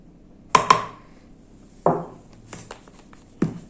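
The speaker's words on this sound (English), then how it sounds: "We will mix and put all ingredients together inside this bowl." A utensil knocks against a bowl while flour, water, sugar and yeast are mixed for no-knead loaf bread: a quick double clink, then two more isolated knocks spaced apart, with faint scraping in between.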